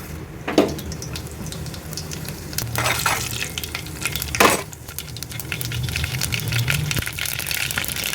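Fenugreek, cumin and mustard seeds sizzle and crackle in hot oil in a pan for a village-style taro curry, with a steady frying hiss, a few sharp pops and clinks, and no talking.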